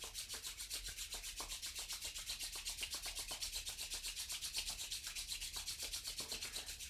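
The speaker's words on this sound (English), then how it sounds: "Let's rub the palms together." Palms rubbed briskly together during a yoga session, a steady, fast rhythmic swishing friction that repeats evenly throughout, close and fairly quiet with no talking.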